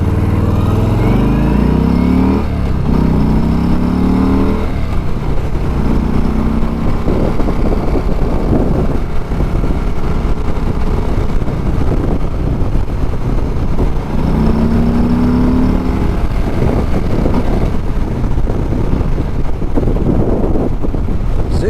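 A 2020 Harley-Davidson Street Bob engine rumbles steadily while riding, its low drone rising and falling with throttle changes beneath heavy, continuous wind buffeting.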